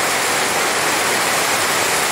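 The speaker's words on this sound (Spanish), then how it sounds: "Miren nada más qué chulada de lluvia nos está cayendo." A heavy downpour roars in a loud, unbroken wash of rain, steady and close from start to finish.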